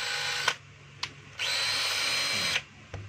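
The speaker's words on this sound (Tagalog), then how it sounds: "Drill." A DeWalt DCD771 cordless drill, freshly repaired with a new field housing and transmission, runs in drill mode. Its motor whines up close in two short bursts, then in a steady run of just over a second that stops abruptly. No one speaks.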